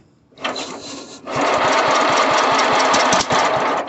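Sears Suburban 12 garden tractor engine cranks briefly, then catches and runs steadily with a loud, rough, rapid thumping idle that continues to the end.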